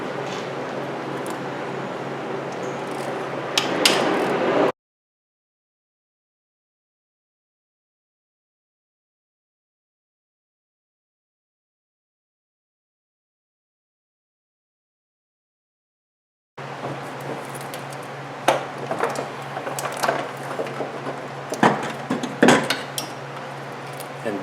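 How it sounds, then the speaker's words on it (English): Wrenches working 13 mm bolts loose on a car's AC compressor with a failed clutch, heard as two bursts of close metallic clinking and tool scraping separated by a long stretch of silence. "let me get in here with a couple of wrenches, and we're going to take out the 13 millimeter bolts."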